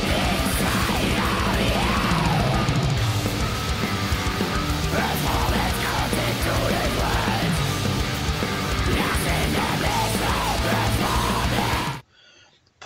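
Black metal from an album plays loud and dense, with harsh yelled vocals over a wall of guitars and drums, cutting off abruptly near the end.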